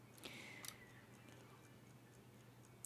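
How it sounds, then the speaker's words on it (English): A wall clock ticks quietly in a room, with a few sharp ticks standing out over a steady low hum. "I can hear a clock on my wall."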